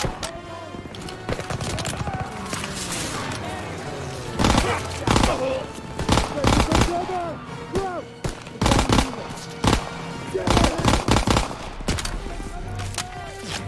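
Dense bursts of rifle and machine-gun fire in a Call of Duty WWII battle, sharp repeated cracks in ragged volleys, loud and close, with shouted voices mixed in between the shots.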